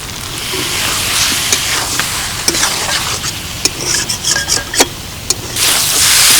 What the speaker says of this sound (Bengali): ঝিঙে আর আলু দিয়ে মশলাটা খুব ভালো করে কষানো হয়ে গেছে